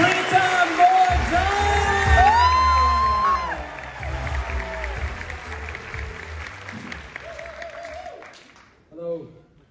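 Theatre audience at a comedy show applauding and whooping, dense clapping and shouts under an announcer's voice, swelling then fading toward the end.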